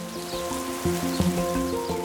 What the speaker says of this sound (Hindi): एक दिन मौसम बिगड़ गया और बारिश आ गई